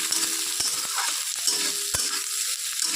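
Chopped onions and torn green chillies, added after minced garlic, fry and sizzle in a hot pan while spinach is being prepared, with a steady crackle broken by a few sharp stirring knocks; no one speaks.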